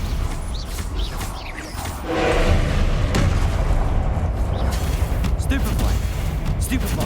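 Stupefy spell combat in the Hogwarts Legacy video game brings booming blasts over a dense, rumbling battle din that swells after the first couple of seconds, with a voice briefly heard amid the effects.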